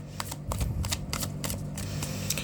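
Tarot cards being shuffled by hand, giving a quick series of crisp papery riffles and flicks at close range, repeating every fraction of a second, with no voices.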